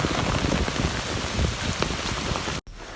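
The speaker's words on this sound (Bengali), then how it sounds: "দেখেন কি পরিমাণ বৃষ্টি হচ্ছে" Heavy rain pours down steadily and loudly in a village, a dense continuous hiss of drops on surfaces that cuts off abruptly near the end, then resumes more faintly.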